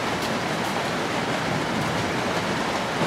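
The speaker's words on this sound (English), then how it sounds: "Sorry for the noise. It has been storming here for the last few days." Steady broadband roar of a storm outside, like heavy rain or wind, holding at an even level throughout with no clear breaks and no talking.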